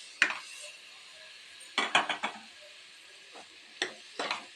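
Cluster beans are stirred into a tomato gravy in a pan, giving a few scattered bursts of utensil scraping and clinking against the metal with quiet pauses between them.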